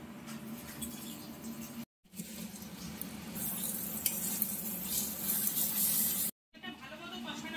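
Masala with turmeric and salt stir-fries in a pan for a green jackfruit and river prawn curry, sizzling and scraping steadily under stirring, with two brief silent breaks.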